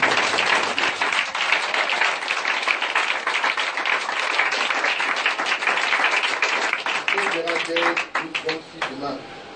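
An audience at a church service applauds in dense, sustained clapping at close range, tapering toward the end as voices begin to come through.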